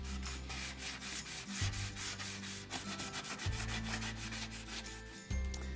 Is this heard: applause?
no